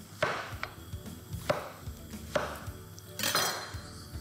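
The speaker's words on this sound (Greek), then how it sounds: "Λοιπόν, έτσι τα χοντροκόβω όπως βλέπετε. Εδώ τα μανιτάρια." A knife roughly chops mushrooms on a cutting board, a series of sharp, irregular knocks roughly every second, close and fairly quiet, with small clatters between.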